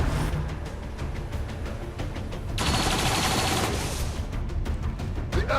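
Rapid gunfire in the turn-based video game XCOM 2, with repeated sharp shots and bursts of automatic fire that rise into a sustained loud fusillade partway through.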